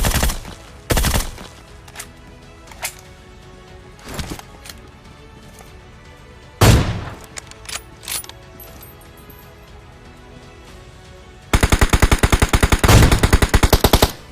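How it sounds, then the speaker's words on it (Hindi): Groza assault rifle fire in PUBG Mobile: a few scattered single shots and short bursts, then a rapid full-auto stream near the end, sharp and close over a low game ambience. "तो मैं ग्रोजा से ऐसी खाली गोलियां चलाता हूँ ताकि वो झांके"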